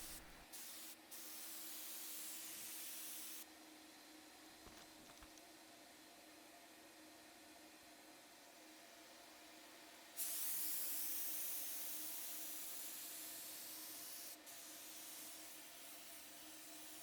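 A paint spray gun sprays primer onto a particle board dresser, hissing in long continuous bursts, starting and stopping several times, a steady airy rush with no voices.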